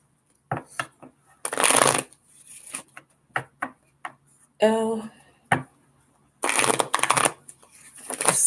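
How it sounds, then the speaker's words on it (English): Tarot cards shuffled by hand during a reading, in quick repeated bursts of close riffling and rustling, with short pauses between them and a few brief spoken sounds. "The shuffling is therapeutic for me."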